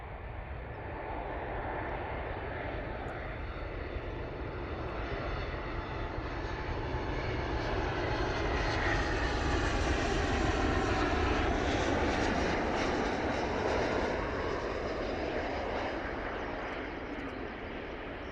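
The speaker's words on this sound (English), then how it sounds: "Sun Express coming in, Boeing 737, MAX 8" A SunExpress Boeing 737 MAX 8 airliner on approach, a loud continuous jet roar that builds and slowly shifts in pitch as it passes close by, with no talk over it.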